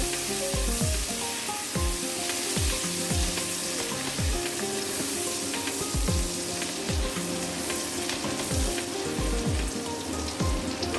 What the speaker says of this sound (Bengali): এবার মাছ ভাজার তেলেই 3-4টা তেজপাতা দিয়ে দিই। এরপরে দিয়ে দিই 1 কাপ পরিমাণ পেঁয়াজ কুচি।